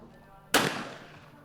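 A single shotgun blast rings out during a men's trap shooting final at the 2019 Shoot to Win Open: one sharp, loud crack with a quickly fading tail over a quiet outdoor background.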